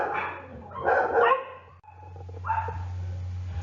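A neighbourhood dog barks a few times in the background, distant and indoors-muffled, over a steady low hum.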